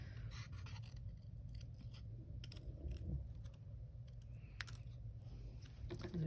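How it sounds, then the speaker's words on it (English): Scissors cut out a paper shape at close range in a steady series of crisp snips and paper rustles over several seconds, with a low background hum and no talking. "I'll cut it out and then we'll decide."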